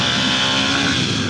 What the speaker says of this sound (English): Get that Harley shaking